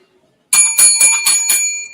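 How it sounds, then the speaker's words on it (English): A bell is rung in five quick, bright strikes right after a moment of silence, loud and close with a lingering metallic ring. "where's the bell?"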